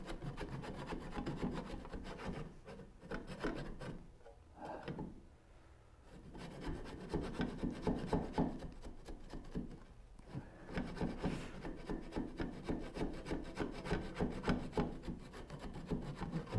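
Steel chisel paring and shaving hardwood held in a Moxon vise, a steady run of close rubbing, scraping strokes with brief pauses between passes.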